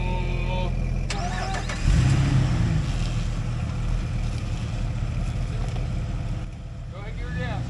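An off-road vehicle at an off-road park cranks and fires up with a loud engine surge, then keeps running with a throaty idle and rough revs from the gas pedal while voices talk nearby.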